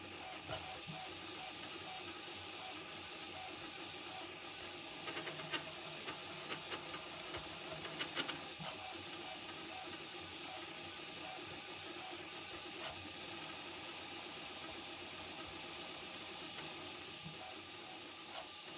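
A Prusa MK4 3D printer fitted with a granulate pellet extruder prints at speed, a faint steady mechanical whir with soft ticking and stepper-motor buzzing throughout.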